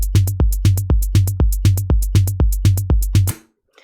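A steady electronic drum loop of punchy kicks, snappy snares and crisp hi-hats repeats evenly several times, then stops abruptly.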